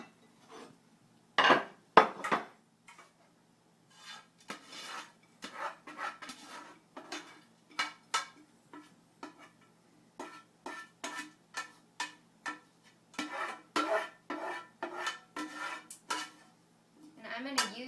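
A metal pan and utensils clatter and scrape in a home kitchen as a cooked cabbage dish is served out, a steady run of sharp clinks and knocks, some louder, with a little talk mixed in.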